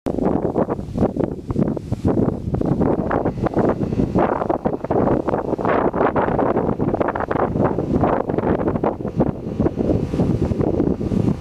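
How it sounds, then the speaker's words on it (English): Blustery cold wind outdoors buffets the microphone in strong, uneven gusts, a continuous rough roar that rises and falls without pause. "it's what the weathermen like to call blustery"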